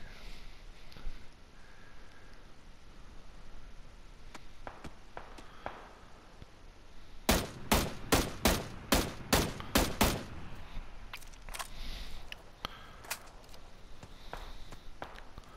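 M16 gunfire in PUBG on the Vikendi map: a quiet stretch with faint scattered shots and steps, then a loud evenly spaced string of about ten shots, followed by more distant sporadic fire.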